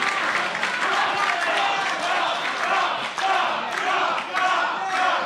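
A House of Glory wrestling crowd packed into an Elks Lodge roars and cheers after a side suplex, a dense, steady wall of shouting and applause with a brief dip midway.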